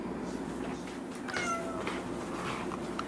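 An indoor house cat meows repeatedly in short, plaintive cries while its nails are being clipped, the calls close and fairly loud with no voices heard.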